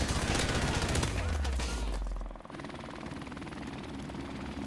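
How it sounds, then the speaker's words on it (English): A friendly support helicopter in Call of Duty: Modern Warfare Remastered roars loudly with a low rotor drone and rapid gunfire, then cuts off abruptly midway, leaving a quieter ambient rumble. "Helicopter support standing by."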